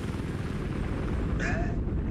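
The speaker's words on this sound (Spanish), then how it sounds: "El helicóptero me atropelló." Helicopter in the Battlefield Hardline video game, a continuous loud rotor rumble filling the scene alongside gunfire and combat noise, with a brief whine partway through.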